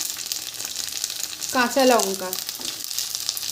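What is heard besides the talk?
chopped tomato frying in oil with onions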